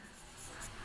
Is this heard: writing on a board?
yes